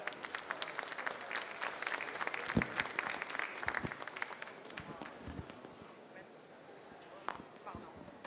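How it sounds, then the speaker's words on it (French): An audience claps at a coffee competition final in France, a sustained round of applause that tapers off over several seconds. A voice announces over the clapping. "On l'applaudit bien fort, on l'encourage,"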